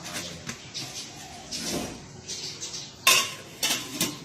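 A metal lid clanks onto a large 32-litre cooking pot holding basil and water, with a few scattered clinks and scrapes before one sharp, close clatter and a smaller knock after it.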